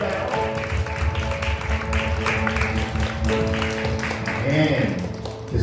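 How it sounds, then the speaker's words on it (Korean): Congregation applauding during a Korean church worship service, a continuous wash of clapping over sustained music and voices, fairly loud and even throughout. "우리 살아계신 주님께 영광의 박수 올려드릴까요?"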